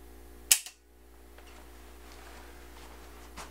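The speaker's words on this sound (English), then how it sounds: "it's time to see just where the trigger is breaking on my Blackhawk Bisley revolver" Trigger of a Ruger Blackhawk Bisley .44 Special flattop revolver breaking while pulled with a Lyman trigger pull scale: a single sharp, close metallic snap followed by a smaller click, then a quiet room hum.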